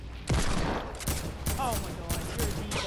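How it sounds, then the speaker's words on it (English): A minigun fires in a team battle video game, heard as rapid bursts of loud, dense gunfire in several waves, close and dominant, with a voice faintly audible underneath. "Oh my god, he's using a minigun."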